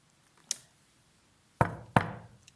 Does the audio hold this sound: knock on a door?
yes